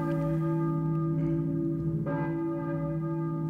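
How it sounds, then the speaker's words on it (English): A church bell tolls in the horror video game Silent Hill, a sustained ringing tone with a second strike near the middle, heard alone with no talk. "a church bell, maybe. Who's ringing the bell?"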